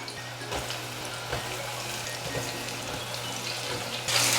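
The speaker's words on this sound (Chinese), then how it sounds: "油热了，茄子放进来炸。" Eggplant shallow-frying in a small amount of hot oil for a Chinese vegetarian stir-fry, a steady close sizzle with a few soft pops, rising to a louder burst near the end.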